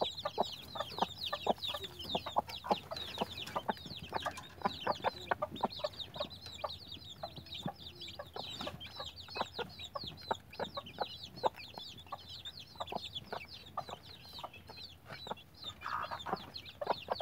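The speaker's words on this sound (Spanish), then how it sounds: "Habrá salido este pollito" Young chicks cheep in rapid, overlapping high peeps, with hen-like clucking mixed in, steady and fairly close throughout with no talk.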